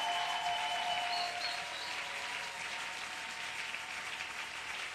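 A church congregation gives a steady round of loud applause, with some cheering mixed in, continuing throughout.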